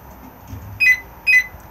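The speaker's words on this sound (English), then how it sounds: "you'll get two chirps to let you know it's disarmed." Two short electronic chirps sound from an Xplore 304 caravan alarm as it disarms, evenly spaced about half a second apart over a quiet background.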